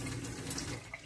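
Water runs steadily from a tap as bars of homemade olive oil lavender soap are rinsed under it, a close, continuous splashing hiss.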